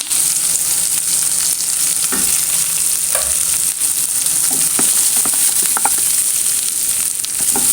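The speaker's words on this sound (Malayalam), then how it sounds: "ചെറിയ ഉള്ളി 2ആയിട്ട് കീറിയിട്ട് അതും ഇട്ട് കൊടുക്കാം. നല്ലോണം വഴറ്റിയെടുക്കുക." Halved shallots and curry leaves sauté in a hot pan for a Kerala Vishu dish, giving a loud, steady, close sizzle with scattered scraping and stirring clicks throughout and no talking.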